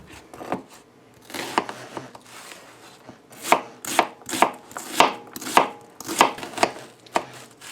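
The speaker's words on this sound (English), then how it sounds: "And I'm also going to chop up the onion and slice up the ribeye steak." Kitchen knife chopping onion or slicing ribeye steak on a cutting board for fajitas, a series of about a dozen crisp, close knocks at an irregular, quickening rhythm, heard alone without talk.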